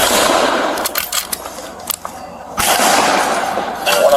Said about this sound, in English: 2 shots so far.